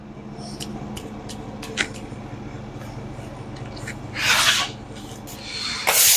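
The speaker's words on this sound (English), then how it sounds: "Cam's sweeping up a little trash right quick" Quiet brushing and scraping of trash being swept up during chassis cleaning on a 1957 Chevrolet Bel Air, with soft bristle strokes and a couple of louder rasping sweeps, no talking.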